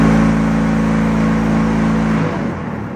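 A block-making machine's vibrator shakes concrete as it is pressed into blocks, a loud, close, steady mechanical hum that drops off and turns rougher near the end.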